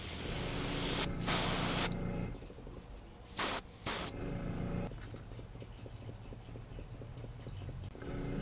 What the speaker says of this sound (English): stick the comb on there, and spray it out